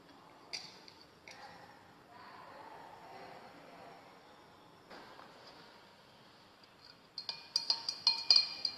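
Potassium permanganate (KMnO4) solution in water being stirred in a glass chemistry beaker, faint soft swishing broken by a few light glass taps, then a quick run of sharp clinks near the end, with no talk.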